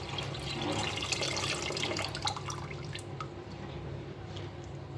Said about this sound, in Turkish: Yaklaşık 1 kilo daha su ekliyorum